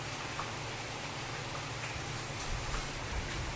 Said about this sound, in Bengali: তো দেখো বন্ধুরা, বাইরে কেমন বৃষ্টি হচ্ছে আর হাওয়াও হচ্ছে।